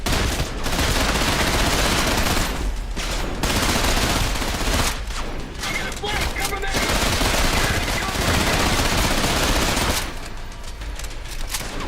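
Sustained video game gunfire, dense, loud machine-gun bursts roaring almost continuously for about twelve seconds with only short breaks, dominating the mix.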